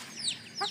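Backyard chickens give short clucks and squawky calls, a couple of quick bursts close by, fairly faint and without any voice over them.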